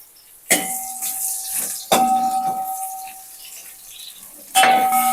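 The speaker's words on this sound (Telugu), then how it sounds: "బీరకాయ ముక్కలు వేయించుకోవాలి" Ridge gourd pieces frying in ghee, three sudden loud sizzling bursts as pieces are stirred or added, each fading into a softer hiss, close to the pan.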